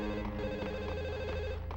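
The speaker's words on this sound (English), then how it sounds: "And we'll get to that phone call eventually." A telephone rings steadily inside the Max Payne 2 game, its repeating electronic trill layered over a low musical score and ambient hum throughout, with no talk.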